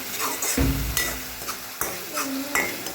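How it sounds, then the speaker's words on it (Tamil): Okra for a spicy tamarind kara kuzhambu curry, with turmeric powder added, being stirred and sautéed in oil in a frying pan. It gives a steady sizzle with repeated scraping stirs and light clinks of the utensil against the pan. "சேர்த்துட்டு நல்லாவே வதக்கி விட்டுக்கலாம்"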